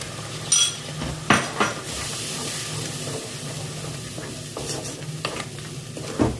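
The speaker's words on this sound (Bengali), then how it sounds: "ভালো করে মশলাটা কষিয়ে নেব" Spice paste being stir-fried in a pan for prawn malai curry, a low steady sizzle broken by several sharp scrapes and clanks of a spoon against the pan, close by, with no talking.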